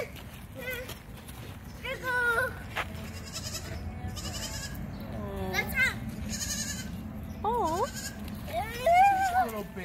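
Several goats, including a baby goat, bleat in short, wavering calls scattered throughout during feeding at Leesburg Animal Park, some close and loud, others softer, with people talking in the background.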